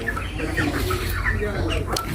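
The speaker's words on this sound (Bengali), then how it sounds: "প্রায় দেড়শো থেকে দুশো পিস মুরগি আছে" Chickens cluck and murmur in a crowded poultry shop holding around 150 to 200 birds, a busy close-up mix of short clucks under general shop noise and low voices.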